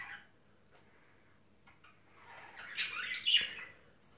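Budgerigars kept indoors give a few soft faint chirps, then a brief louder burst of sharp tweets and squawks near the end.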